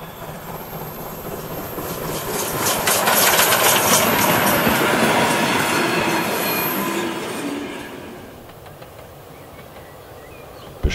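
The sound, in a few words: steam locomotive 91134 from Schwerin, built 1898, running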